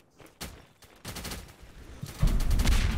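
Rapid bursts of Pulse SMG fire in the Roblox shooter game, sparse shots at first, then a loud, sustained volley of gunfire and explosions in the last second.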